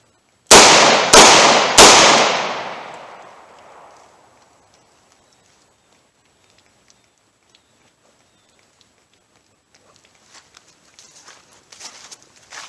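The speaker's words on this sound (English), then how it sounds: "Pull it out, fire 3 good rounds." .38 Special pocket gun firing three rounds in quick succession, each loud sharp crack trailing into a long fading echo, followed by near silence and faint handling noises.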